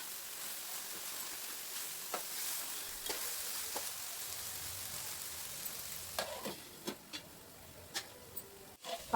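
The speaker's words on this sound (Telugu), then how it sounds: "మధ్య మధ్యలో కలుపుకుంటూ ఆ ఆకంతా పచ్చివాసన పోయేదాకా, దగ్గరికి అయ్యేదాకా అప్పుడప్పుడు కలుపుకుంటూ ఉంటే కూర మగ్గిపోతుంది" A tomato and spinach curry cooks quietly in a pan with a faint, steady sizzle, broken by occasional light clicks and scrapes of stirring that grow more frequent toward the end.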